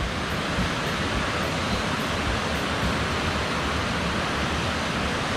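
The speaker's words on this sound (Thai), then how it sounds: "น้ำไหลดี" Clear water flowing steadily at Suy reservoir in Champhone district, Savannakhet, Laos, a constant broadband rush like a weir or spillway, loud and unbroken with no talking.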